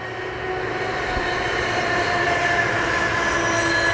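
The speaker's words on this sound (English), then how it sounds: "Sorry, the train going past there." A train passes nearby with a steady, loud rumble of rolling wagons and a faint squeal of wheels, holding at an even level throughout.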